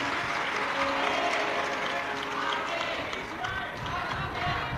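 Audience at a live Shiv Mahapuran katha in Bhusawal, Maharashtra, clapping loudly for the host family, with sustained dense applause and crowd murmur throughout.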